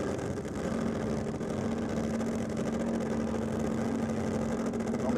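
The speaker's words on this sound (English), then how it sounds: "Both cars rolling up to the start line now." Drag racing cars idle and roll up to the start line at Sydney Dragway, a loud, steady low engine rumble with a sustained droning tone, close and unbroken.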